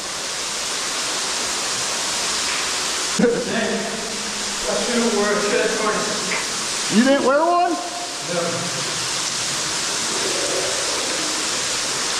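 A waterfall pours inside a cave with a loud, constant roaring wash throughout, while people talk over it close by.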